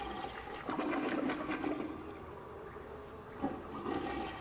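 A toilet flushes in Team Fortress 2 with a broad rushing whoosh of water that swells, fades, then surges briefly again near the end; no voices.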